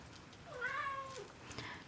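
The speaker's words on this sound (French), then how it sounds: "c'est mon chat qui est rentré dans la pièce et il ne fait que de miauler" A domestic cat meows indoors, one drawn-out, rising and falling meow at moderate level against quiet room tone, with no talking.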